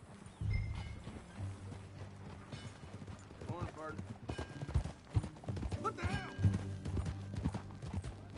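Hooves clip-clop steadily at a walking pace in Red Dead Redemption 2, with a horse snorting and characters talking over the top.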